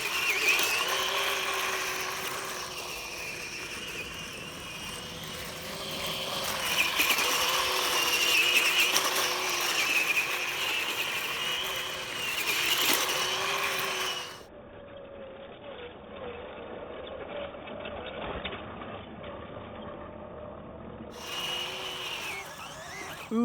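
A 1:12 scale RUKO Q111 RC military assault tank drives and spins on dirt and grass, its small electric motors and plastic tracks giving a continuous whirring, ratcheting drone that rises and falls, then drops quieter before revving again.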